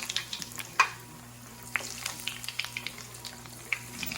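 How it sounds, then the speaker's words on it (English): Breaded mozzarella fritti bubble and crackle in hot oil, a near, steady frying hiss broken by sharp pops and spits. "got a nice fry going."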